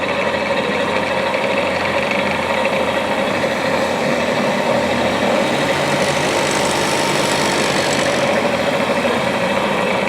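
A distributor testing machine with a built-in vacuum pump runs at a steady speed, producing a continuous mechanical hum and whir with no breaks and no voices.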